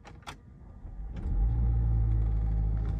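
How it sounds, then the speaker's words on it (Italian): Range Rover Sport second generation (L494) engine cranking and firing up, with a short starter burst followed by a steady, loud idle rumble close by. "e accendiamo la macchina."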